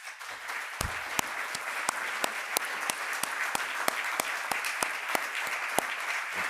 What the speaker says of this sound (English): I'd like to ask all of them to stand now for applause.